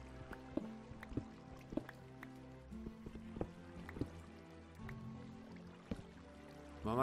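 Water dripping in the Minecraft video game: quiet, sparse single drips at irregular intervals, roughly one or two per second, over a soft low ambient hum.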